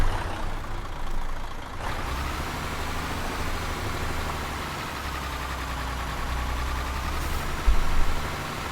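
A Mercedes Antos truck engine in Euro Truck Simulator 2 drones at a steady low rumble, shifting in pitch as it drives slowly off-road. A short hiss and a bump come near the end.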